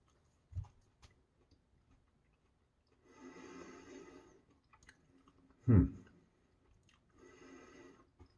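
Someone bites and chews the spongy flesh from inside a coconut, with two sharp bites followed by bursts of soft, moist chewing, close and fairly quiet.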